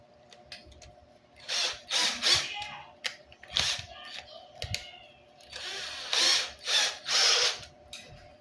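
A motor shaft is polished with 1000-grit sandpaper to smooth scratches: bursts of rasping abrasive scrubbing come in short strokes, paired and repeated with pauses between, against a faint steady hum.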